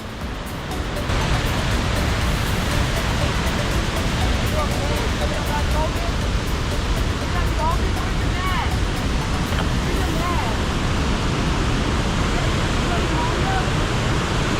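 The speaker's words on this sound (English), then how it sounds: "Look at that water roll." Water rolls down Vickery Falls in a broad, continuous roar that stays steady and loud for the whole stretch, with a few faint bird-like chirps and murmurs riding over it.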